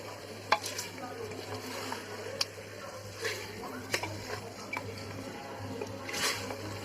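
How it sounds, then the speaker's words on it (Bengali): Chicken is stirred with spices in a pot, with repeated wet scraping and squelching strokes over a low sizzle and a steady background hum. "এবার ভালো করে মশলার সাথে মাংসগুলো মশলার মধ্যে মিশিয়ে নিতে হবে"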